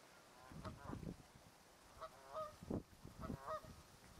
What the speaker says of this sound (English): Return of the snow geese.